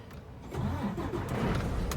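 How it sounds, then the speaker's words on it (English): A vehicle engine cranks and catches, building into a loud, rough idle that runs steadily close up, with no voices over it. "Turn the engine on."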